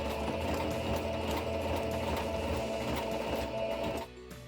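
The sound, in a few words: sewing machine stitching a seam on jeans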